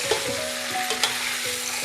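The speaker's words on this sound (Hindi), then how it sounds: "चिकन डालूंगी, चिकन को ऑयल में थोड़ा सा फ्राई कर लेती हूँ।" Chicken pieces fry in hot oil in a pan for a dish of Punjabi dhaba-style sarson ka saag, giving a steady close sizzle with a few sharp crackles and pops, and no voices.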